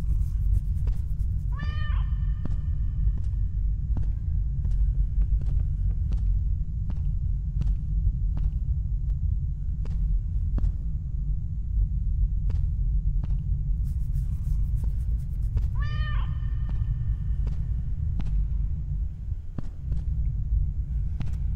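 A cat in the game The Stairway 7 gives two clear meows, several seconds apart, over a low constant rumble and scattered soft clicks and footsteps.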